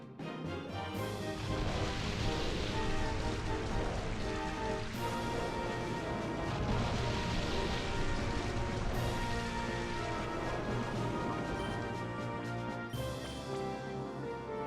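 Steady, dense rain from the move Rain Dance in Pokémon Colosseum hisses without pause, with musical tones layered over it throughout.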